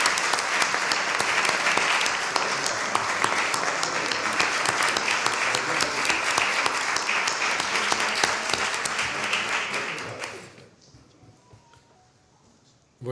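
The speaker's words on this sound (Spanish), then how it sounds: "Se merece un aplauso" Audience applause in a packed, formal lecture hall at a book presentation: dense, sustained clapping for about ten seconds that quickly dies away into quiet room noise.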